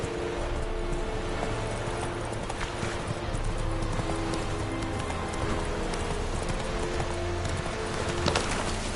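Horse hooves clip-clop steadily through a ride in The Witcher 3 video game, a continuous rhythmic trot heard up close with game ambience and faint bird calls, no talking.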